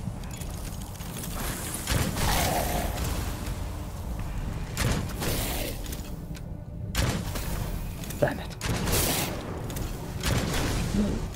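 Shots from a stake gun in the dark fantasy shooter Witchfire come as several sharp, booming bursts spaced a few seconds apart, with brief quieter gaps and occasional faint talk.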